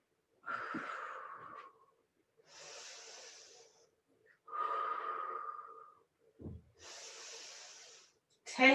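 A person doing a thoracic stretch hold takes slow, deep breaths close up, alternating long rasping inhales and airy exhales, four full breaths with short silent gaps between them.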